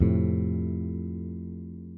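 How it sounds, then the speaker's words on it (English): A single low, twangy guitar note plucked near the bridge rings out and slowly fades away, heard alone. "That really twangy bridge plucking sound gives this really ominous tone"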